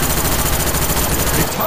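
Sustained automatic machine gun fire from the Call of Duty Zombies video game, a loud rapid rattle of evenly spaced shots that runs continuously before cutting off near the end.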